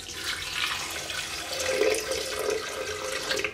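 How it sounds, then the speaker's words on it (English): Water poured from close by onto coconut pieces in a blender jar, a steady splashing gush running throughout with no talk over it. "Now I'm gonna add some water."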